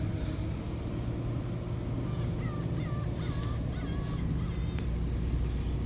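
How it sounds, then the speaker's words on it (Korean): Gulls cry in short, scattered calls over a steady low rumble of engines and harbor noise at Gyeokpo Port ferry terminal in Korea, with no talking. "갈매기도 울고 있습니다"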